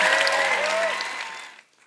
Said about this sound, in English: Thanks for the clap.